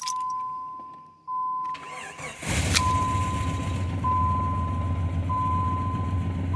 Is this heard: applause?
no